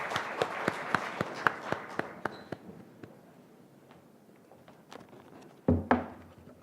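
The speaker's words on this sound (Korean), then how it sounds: "정수민 학생의 연설 박수로 맞아주십시오." An audience at a youth speech contest welcomes a high school student speaker with sparse applause: a few sharp, distinct claps at first that thin out and fade, then a couple of louder thumps near the end.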